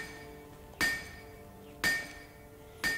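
A hammer strikes metal at a forge in a video game, giving three evenly spaced, ringing clinks about a second apart over a low steady background hum.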